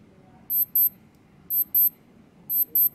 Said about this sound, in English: 5 daily alarms with snooze function